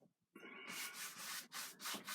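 Paintbrush scrubbing phthalo blue oil paint onto canvas: a faint dry bristly rasp starts softly and then settles into steady back-and-forth strokes with brief pauses, heard alone and close up.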